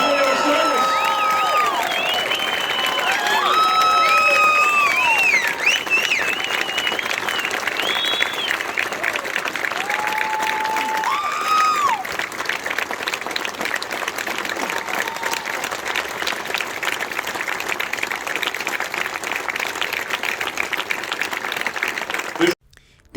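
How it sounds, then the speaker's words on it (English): A large outdoor crowd at a Mount Rushmore National Monument ceremony claps steadily with scattered cheers and whoops, a sustained loud wash of applause that fades out at the end. "let us show them our appreciation for their sacrifice for our freedoms with another heartfelt round of applause"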